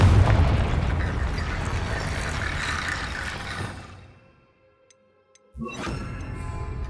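A sustained blasting roar from the Confringo curse in Hogwarts Legacy fills the opening seconds and fades into near silence, followed by a sharp new burst and rumbling blast that carries to the end.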